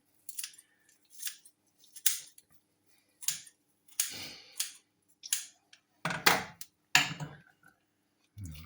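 A knife cuts all the way through a piece of pork coated in breadcrumbs, making a string of about ten short, crisp crunching strokes at close range, with quiet gaps between them and no talk.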